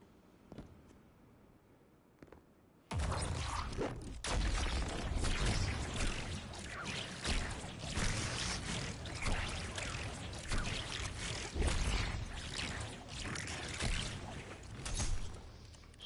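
Tractor Cannon super firing in a video game: after a near-silent start, a sudden loud broadband blast turns into a sustained roaring, churning rush that holds for many seconds.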